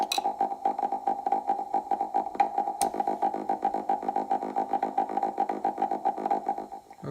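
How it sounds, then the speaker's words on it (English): A buzzy, gritty synthesizer tone chopped into quick, even on-off pulses by square-wave modulation, loud and continuous throughout. "And back to square."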